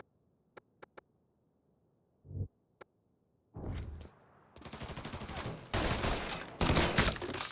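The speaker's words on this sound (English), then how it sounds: "the guard has spotted us and is shooting at us" Gunfire from guards in the video game Mafia 3: a few isolated sharp shots, then sustained loud automatic bursts of rapid fire building toward the end, with no voices.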